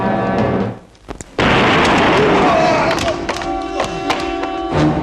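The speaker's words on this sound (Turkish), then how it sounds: "Aa, patladı!" A sudden loud blast as a teapot bursts after a brief lull, followed by a noisy rumbling aftermath with voices and commotion.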